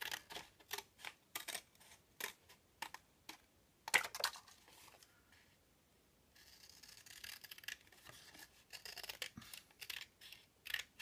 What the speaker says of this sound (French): Vous allez découper là